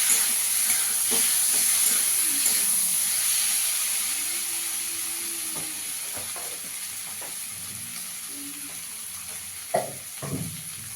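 Spices and a spoonful of coriander powder sauté in a pan for a tengra fish curry, giving a steady close hiss with occasional knocks from stirring.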